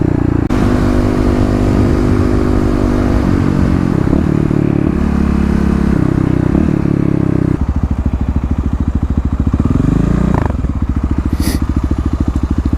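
A 2018 fuel-injected Kawasaki KLX351 motorcycle accelerating hard in a 0-60 mph run, loud close engine roar climbing in pitch through several gear shifts, with wind buffeting throughout.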